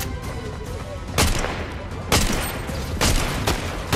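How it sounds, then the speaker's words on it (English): Gunfire in a Fortnite match: steady rattling shots throughout with three louder bursts roughly a second apart, close and loud, no talk over it. "someone's shooting us from behind."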